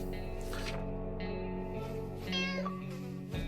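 Cat meowing in the video game 60 Seconds, a few drawn-out plaintive meows in sequence, clear and close, with a louder final cry.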